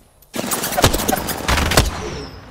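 Rapid bursts of gunfire in the video game Apex Legends, a dense run of close, loud shots starting abruptly and continuing in clustered volleys with no talking.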